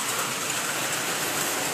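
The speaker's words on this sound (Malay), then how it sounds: "Hujan" Rain falling beside a Proton Exora under air-conditioning service, a dense steady hiss of drops at a constant level, near and alone.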